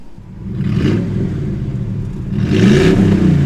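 An impounded car's engine revs loudly up close, a deep rumbling idle swelling into two throaty accelerating pulls with a rising whir, no talking over it.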